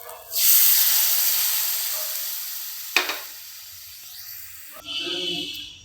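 Water poured into hot kofta curry gravy in a pan sets off a loud, broad hiss that gradually fades, with a sharp clatter partway through and a brief bubbling burst near the end.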